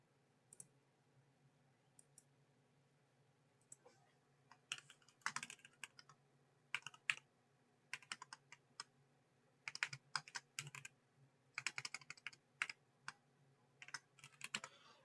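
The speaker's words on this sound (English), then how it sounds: "I keep typing the damn wrong thing" Quiet bursts of rapid typing on a computer keyboard, clustered clicks and key taps coming in uneven runs with short pauses between, close to the microphone against a faint low hum.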